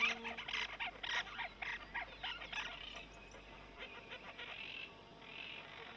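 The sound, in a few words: parakeets and flycatchers squabbling over a tree hollow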